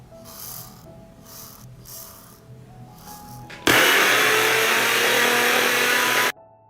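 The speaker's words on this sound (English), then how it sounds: "Grind 5 tablespoons of black cumin seeds in a spice grinder." A spice grinder grinds black cumin seeds: after a few seconds of quiet shaking and rattling, a loud, steady, high-pitched whirring burst runs for about three seconds, then cuts off abruptly.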